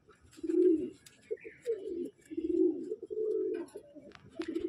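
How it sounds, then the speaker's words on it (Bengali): An Andhra Chennai breed pigeon with a closed tail cooing up close, a run of low throaty coos in repeated bursts, with faint background noises and occasional chirps. "একদম বন্ধ লেজের পায়রা।"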